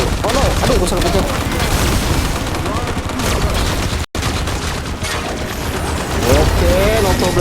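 Rapid gunfire and explosions from the mobile shooter game Frag Pro Shooter, a dense continuous barrage with booms and crashes filling the whole stretch, loud and close, with a brief drop-out midway.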